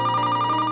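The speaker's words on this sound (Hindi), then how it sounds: "फोन की घंटी।" A telephone rings with a steady electronic trill, brief, close and unbroken, with no voices.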